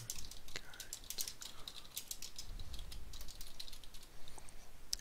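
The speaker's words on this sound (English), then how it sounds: "I'll type in the title of the book." Light typing on a computer keyboard in a library setting, a steady patter of quiet key clicks with small pauses, close and soft, with faint voice in the background.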